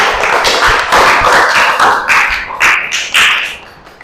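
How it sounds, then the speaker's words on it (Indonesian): Students in a classroom clapping for group 7 during a data communications teaching session, loud close claps in uneven bursts with thumps and taps, fading toward the end. "tepuk tangan untuk kelompok 7"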